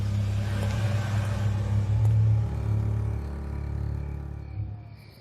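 A car pulls away, its engine rumbling loudly up close at first, then fading steadily into the distance as it drives off, with no voices over it.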